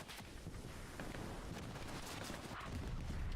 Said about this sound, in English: Mac Daddy just laying on point with an MG.